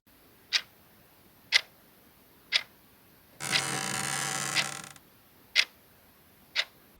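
Crisp, evenly spaced ticks of a clock's second hand sound in a quiet bedroom at night in the visual novel Tsukihime, interrupted midway by a second-long steady hiss before the ticking resumes.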